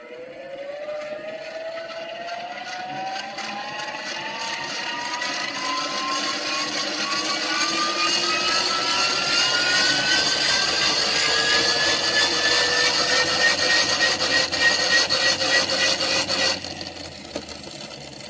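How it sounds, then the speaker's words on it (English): A vintage Evershed & Vignoles Megger insulation tester from 1919–1926 is hand-cranked steadily, its generator whine rising in pitch as it spins up, holding a high buzzing tone, then stopping abruptly near the end. "I'm going to give it a crank and see how much voltage we can get out of it."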